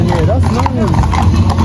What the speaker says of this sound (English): You can look at the horse.